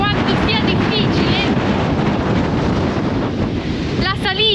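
Strong wind on the trek to Cerro Torre in Patagonia batters the microphone in a constant loud roar, with brief whistling tones near the end.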